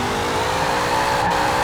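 A 1970 Chevrolet Chevelle SS muscle car drones steadily while driving, its engine a loud, close, continuous roar with road noise and no talking.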